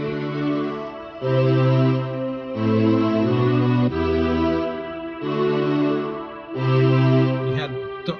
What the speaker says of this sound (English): You hear that string? You hear how dark it is?